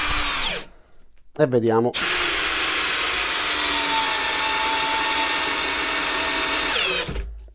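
A Parkside Performance cordless drill rated at 150 Nm runs at speed 1, whirring loudly and steadily for several seconds after a brief rev, with someone speaking Italian before it starts.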